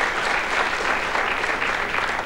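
A studio audience on the Hungarian TV quiz show Legyen Ön Is Milliomos breaks into steady, dense applause, sustained and fairly close, with no talk over it.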